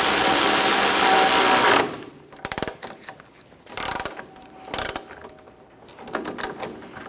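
Ratchet wrench tightening the nut on a lower rearward control arm of a 2003-2007 Honda Accord: a loud sustained burst of clicking, then several short separate bursts of ratcheting clicks, close up.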